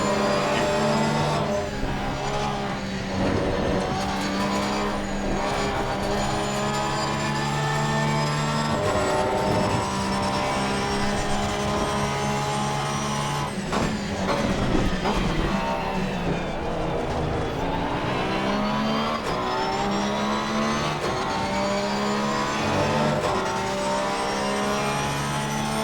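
A GT race car in the Assetto Corsa Competizione sim racing game roars loudly and continuously, its engine pitch rising and falling through gear changes with a sharp shift midway. Another car's engine is layered underneath.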